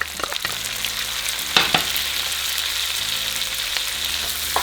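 Chipotle chiles and tomatoes hit a hot pan for charro beans and fry with a steady close sizzle, broken by a few spoon scrapes and clanks against the pan.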